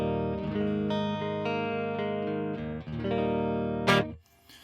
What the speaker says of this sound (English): it's just a very straight, clean, dry guitar sound.